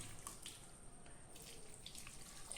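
Water runs from a tap in a quiet, steady trickle with faint splashes, for cooking plantain and beef in a pressure cooker; no voices.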